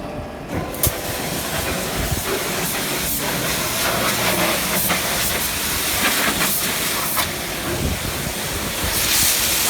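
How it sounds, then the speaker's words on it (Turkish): A pressure washer hisses as it sprays water over a Tofaş Doğan SLX car, a loud steady hissing spray that shifts slightly in tone as the jet moves. "buradaki tazlıklı suyla beraber yıkayacağız"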